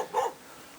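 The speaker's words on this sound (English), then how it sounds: "It's a fucking dog." A single bark from a dog behind a property next to a new Persimmon Homes housing estate in Bannockburn, a short sharp call at moderate distance with quiet outdoor background afterward.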